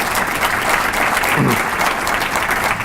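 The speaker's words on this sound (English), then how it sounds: "let's give all of them a round of applause" An audience at the 2015 State of the Commonwealth Report rollout in Tysons, Virginia, claps in steady, dense applause that stays loud and close throughout, with no pauses.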